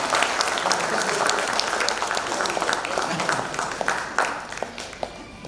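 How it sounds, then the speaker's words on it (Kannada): An audience at a comedy evening at a 1981 Ballari medical college reunion gives sustained applause, a dense patter of many hands clapping, with voices heard over it. "ಗುರುಗಳಿಗೆ ನಿಮ್ಮೆಲ್ಲರ ಪರವಾಗಿ ಒಂದು ಜೋರು ಚಪ್ಪಾಳೆ ಅವರಿಗೆ."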